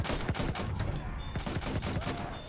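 Rapid gunfire from Battlefield 1 on PS5, a burst of close, sharp shots in quick succession with a few short gaps, loud and continuous across the moment.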